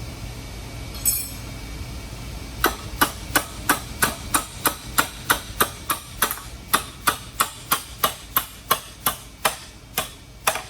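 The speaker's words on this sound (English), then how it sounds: "we're going to take this hammer and put my hand on it. Just keep pressure this way and tap this like this" A hammer taps a metal piece to bend it during a budget laundry room makeover, striking about twice a second in a steady run of sharp, ringing metallic hits after a short pause, close up with no talk.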